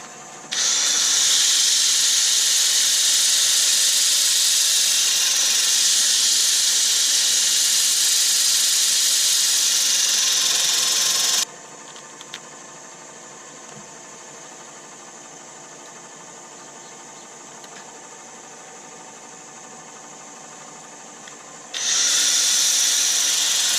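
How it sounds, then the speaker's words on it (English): A loud, steady high-pitched whirring of a wood lathe turning a Sapele bowl runs for several seconds, drops to a quieter hum midway, then surges back up to full speed. "I'm going to turn the speed of the lathe down a little bit."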